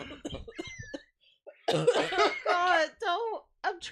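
A short burst of coughing mixed with throat sounds and laughter on a casual movie-news talk show, with people speaking close by around it.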